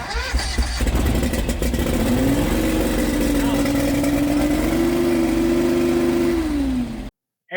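A mounted machine's engine, started with the choke pulled and the key turned, runs loud and close with a steady mid-pitched drone that rises slightly and holds before cutting out abruptly near the end.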